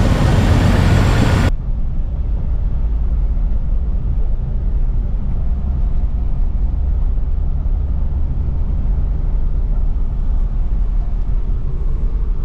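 Jeep TJ with an ignition fault starting up: a loud cranking burst, then a steady low engine idle running evenly and close by for the rest of the span.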